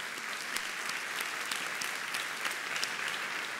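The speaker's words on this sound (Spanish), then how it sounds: "Un aplauso al Señor." A church congregation applauds during a sermon: steady, dense clapping that fills the room for several seconds, with a few sharper claps standing out and no talking over it.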